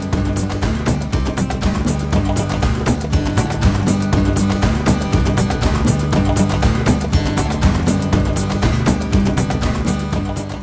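Music mix on a PA or sound system after the bass has been turned down, the track steady and full with a dense beat running loud and continuous, no voices.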